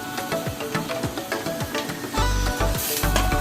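Shrimp frying in a pan with onions browned to a golden colour for a bitter gourd curry, a close, steady sizzle broken by scraping stirs, growing louder and denser toward the end.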